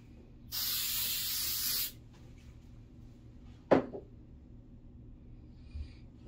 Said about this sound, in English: shaking the stuff up, tack spray.